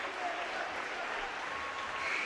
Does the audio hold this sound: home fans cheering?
yes